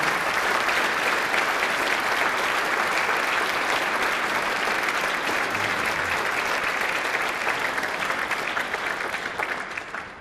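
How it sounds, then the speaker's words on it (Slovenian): Loud, dense applause from a concert audience greeting a wind orchestra and its conductor at a Christmas and New Year concert, sustained and even throughout before tapering slightly at the end. "Zato močan, uvodni aplavz, lepo prosim za vse zbrane na odru pod vodstvom spoštovanega dirigenta gospoda Sebastiana Boručaka."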